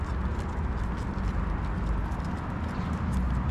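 Hooves of several horses clip-clopping on dusty ground as they are herded on a horse property, a continuous busy patter of steps close by with no talking.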